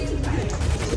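Pigeons cooing in low, throaty murmurs with some fluttering and bumping close by, continuous throughout.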